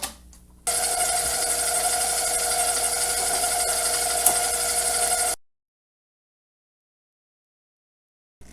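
An electric mixer creaming white and brown sugar for holiday cookies whirs at a steady high pitch for about five seconds, close and loud, then cuts off to silence.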